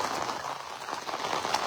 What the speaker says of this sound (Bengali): এখনো বৃষ্টিটা হচ্ছে, তবে এই বৃষ্টিটা একদম ফ্রেশ।